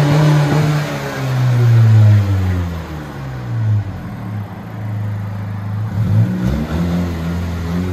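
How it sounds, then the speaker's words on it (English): A 2019 Honda Civic Si turbo with a muffler delete and quad tips revs close by, its exhaust swelling and falling in a few throaty pulls before settling toward idle. "So we did a muffler delete and quad tips."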